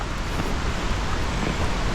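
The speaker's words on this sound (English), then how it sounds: "that waterfall getting louder, so I'm getting close" A rushing waterfall on a rainy backpacking trail in Olympic and Mount Rainier country roars as steady, dense, broadband noise, loud and continuous, with no breaks or talk.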